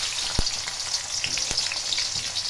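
Onions sizzle steadily in hot oil as the first step of frying rice for pulao, a dense crackling hiss throughout with two sharp low knocks from the pan.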